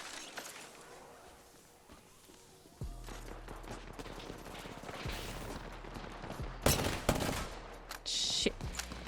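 Gunfire in the video game Apex Legends comes in bursts, with a sharp loud volley near the end over a low in-game rumble.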